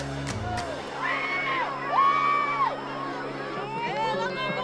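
A packed crowd cheers and shouts in a gym at a high school basketball game between Germantown High School and MLK, with sustained loud whoops and yells and voices mixed throughout.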